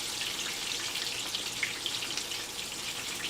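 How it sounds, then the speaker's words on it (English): Steady, bright sizzling of chicken skin frying in a hot pan, a continuous crackling hiss with no talking. "Look at how it's sizzling."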